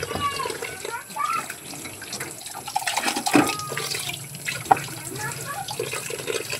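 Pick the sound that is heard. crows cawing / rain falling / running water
running water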